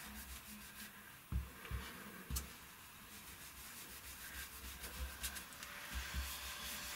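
A paintbrush loaded with ink wipes across card stock while making an Easter card with sheep, giving a soft, quiet rubbing and scraping texture with a few light taps, close and low in level.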